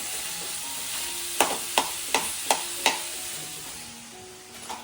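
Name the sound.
stirring peanuts and salt in a cooking pan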